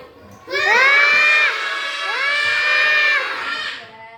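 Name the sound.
children shouting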